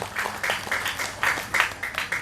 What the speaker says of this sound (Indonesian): Tah gitu ada tepuk tangan heula.